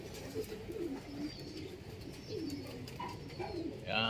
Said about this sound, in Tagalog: Ito naman mga stock bird.